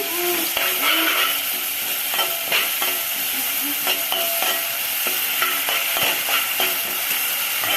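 Onions frying in oil in a pan for an egg curry, a steady loud sizzle with repeated stirring scrapes and clinks, no talking.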